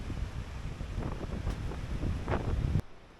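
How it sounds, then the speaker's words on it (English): Steady gusty wind on a coastal hiking path in Patagonia, Argentina, buffeting the microphone, a rough continuous roar that cuts off abruptly near the end. "It's quite windy today"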